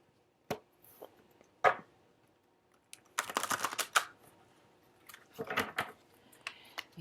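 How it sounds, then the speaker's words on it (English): Intermittent tarot card shuffling: sharp riffling bursts and soft taps with quiet pauses between, close and fairly clear. "I'm kind of feeling like shuffling a couple of times, so let's go ahead and let's get 2 shuffles."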